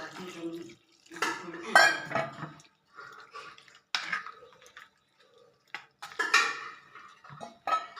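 Malabar tamarind is mixed with water in a pot, a spoon clinking and scraping against the metal in short irregular bursts with brief pauses, close and moderately loud, with faint liquid sounds.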